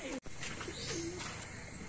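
A pigeon coos close by in a loose warbling rhythm over a steady high electronic whine, with a short dropout near the start.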